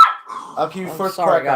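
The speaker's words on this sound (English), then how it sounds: "That's my dog." A dog gives a few short, close barks that overlap and alternate with a man's speech.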